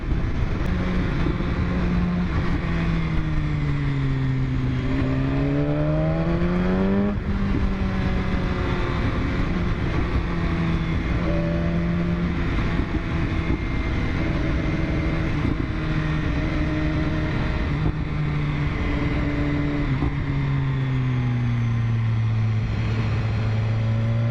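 A 2015 BMW S1000RR sport motorcycle engine drones steadily as it accelerates, its pitch sweeping up and down through repeated rev changes; the loud, continuous exhaust note fills the whole stretch with no talking.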